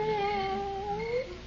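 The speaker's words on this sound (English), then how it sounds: "What's that? Oh, the cat." A cat meows in a drawn-out, wavering caterwaul as a radio drama sound effect, loud and close, heard alone without talk.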